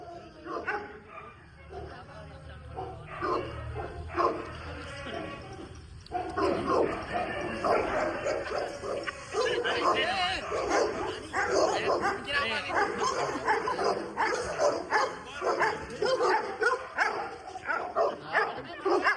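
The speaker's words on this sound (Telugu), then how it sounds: "డాగ్స్ అన్ని ఫుల్ యాక్టివ్ లో ఉన్నాయి." Many kennel dogs, including Rottweilers, German Shepherds, Saint Bernards and Huskies, bark, yip and whimper in repeated loud bursts nearby, with people talking throughout.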